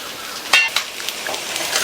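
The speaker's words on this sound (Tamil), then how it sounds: "இந்த மாதிரி அகலமான கரண்டியை வச்சு இந்த மாதிரி பிரட்டி விட்டோம்னா வாழைக்காய் உடஞ்சி போகாமல் இருக்கும்" Raw plantain pieces stirred with a wide spoon in a pan give a soft, steady sizzle with a few scraping clinks of the spoon, close and moderately loud.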